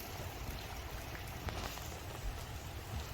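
Heavy autumn rain pours steadily onto a small garden, a dense, constant hiss of drops with no pauses or voices.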